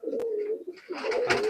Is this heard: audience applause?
no